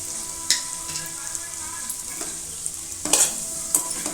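Spiny gourd curry seasoned with chili powder and salt being stirred in a pan, with a steady soft sizzle and several sharper scraping strokes of the spoon, close and clear with no talking.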